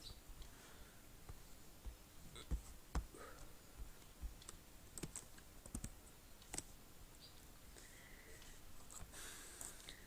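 HTML text being typed on a computer keyboard, a quiet and uneven run of light key clicks with a few sharper taps, close up against a soft background hum and with no speech.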